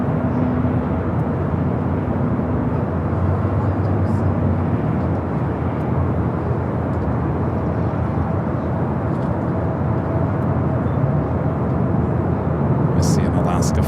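An Alaska Airlines jet at Los Angeles International Airport makes a steady, loud broadband roar that holds for the whole stretch, with faint voices murmuring underneath.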